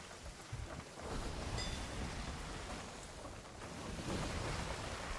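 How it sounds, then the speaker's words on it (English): Big ocean waves rolling ahead of a storm in the pirate game Sea of Thieves, a steady loud wash of surf and wind that swells and surges throughout without any talking. "These are really big waves. Well, we're going into a storm."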